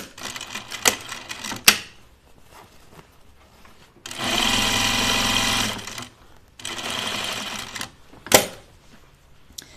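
A sewing machine stitches a canvas pincushion in short bursts, with one steady run of whirring in the middle and a few sharp clicks and handling noises between, close and fairly loud.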